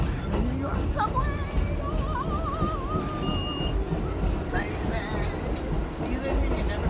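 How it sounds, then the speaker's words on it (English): A New York subway train rumbles steadily through the whole stretch, with a constant loud roar and squealing tones rising above it while people chatter in the car. "New York subway."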